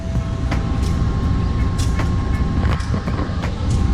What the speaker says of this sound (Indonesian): kereta lokal Supasnya sudah disediakan di jalur 1